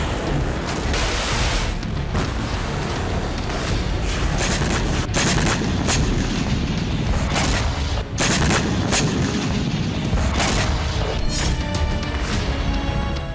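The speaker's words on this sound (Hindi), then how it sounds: "वीडियो में साफ दिख रहा है किसी अंडरग्राउंड ठिकाने से रॉकेट हमले किए जा रहे हैं।" Rockets are launched from an underground site in the Israel conflict, heard as a dense, continuous barrage of loud booms, cracks and blasts, one hitting after another with no pause.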